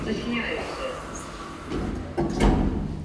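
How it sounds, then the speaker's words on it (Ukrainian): Elevator doors in a modernized lift in a Kryvyi Rih apartment building slide shut and settle with a soft bump, over a steady mechanical hum, with a voice in the background. "Обережно двері"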